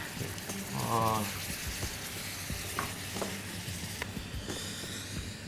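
Hot caramel sizzling and crackling as cream is poured in gradually, with faint stirring, fairly close and steady throughout.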